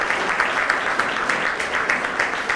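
Audience clapping fills a school prize-giving ceremony, a steady dense patter of many hands at moderate distance, continuing without pause and without talk.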